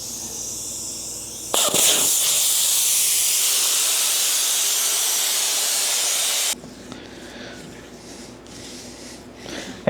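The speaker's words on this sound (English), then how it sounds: "Pull the valve core so we can dump the air." Air blasts out of the open valve stem of a truck tire on an old Ford LTL9000 after the valve core is pulled, a loud, steady hiss lasting about five seconds that cuts off abruptly, leaving quiet shop sounds.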